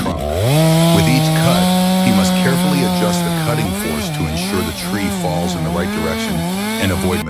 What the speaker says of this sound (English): The chainsaw, though powerful and sharp, requires great precision and care to cut through such a large and thick trunk.